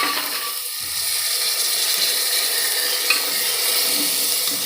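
Soaked dried white peas go into hot oil and are stir-fried, giving a steady close sizzle with faint scraping of stirring throughout and no talking.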